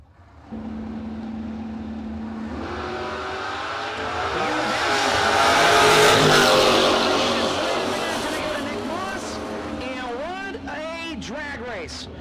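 Drag race cars at a no-box open meet, Nick Moss against Case, roar off the line with loud rising engine tones that swell, peak, then fade as they run down the strip, with shifting pitch sweeps near the end and a voice talking over the noise.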